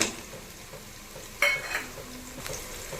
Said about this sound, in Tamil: வெங்காயம் நல்லா சுருங்கி வர வரைக்கும் வதக்கிக்கலாம்